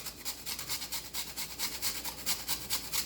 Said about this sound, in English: I have my grater. I'm going to show you how I grater it in.